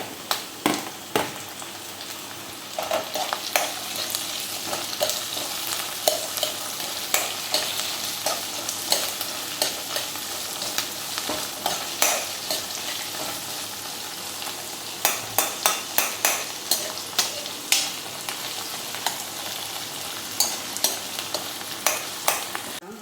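Chopped tomato sizzles with onions in a pan, a steady loud frying hiss broken by repeated scraping stirs with a spoon, close up and without talk.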